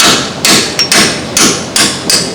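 Five sharp, loud hammer blows at an uneven rhythm, close by, driving a splined coilover part onto the hub of a Ford Maverick.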